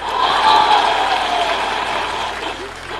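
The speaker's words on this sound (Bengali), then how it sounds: "আমাদের ক্ষোভের জন্য একটা জোরে হাত তালি," Many people in an audience clap hard together, a thick, sustained wash of applause that peaks early and tapers a little as it goes on.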